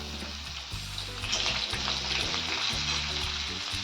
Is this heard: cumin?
yes